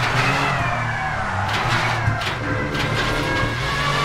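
A VRC touring car mod in Assetto Corsa drones along at a steady engine pitch with shifting revs, loud and continuous with no talk over it.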